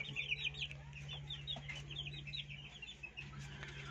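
Backyard hens of mixed breeds cluck softly and repeatedly near the listener over a steady low hum, with short chattering calls scattered throughout.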